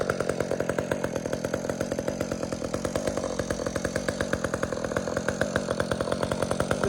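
Chainsaw ported by Ripsaw and fitted with a custom-designed muffler pipe, running loud and close with a rapid, even, buzzing engine pulse throughout, steady at high revs.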